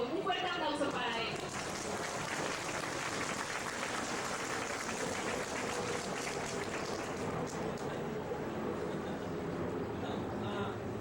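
Applause for a speaker at a gothic-themed event, a continuous wash of clapping at moderate distance, fairly faint overall, with a brief sharper burst at the very start and some crowd murmur mixed in.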